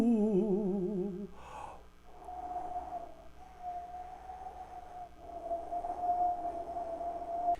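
A voice whistles in wavering, vibrato-laden tones, then holds a long, steady, airy whistle meant to imitate a fall wind.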